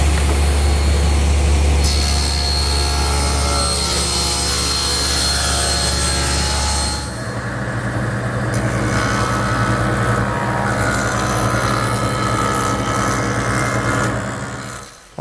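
Table saw ripping a wooden board along the rip fence, a loud sustained whine and roar that shifts pitch partway through the cut, then the blade spins on before fading at the end.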